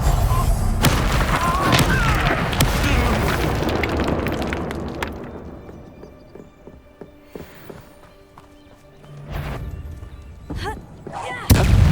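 An Incendio fire spell in Hogwarts Legacy, a loud rushing blast that fades over several seconds, then later sharper impacts and bursts of combat, with spoken lines mixed in.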